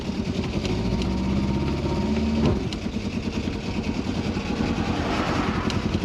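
A Triumph Dolomite engine, long abandoned, roars at full throttle with a steady loud drone that drops off sharply partway through, then settles into a rough, pulsing run.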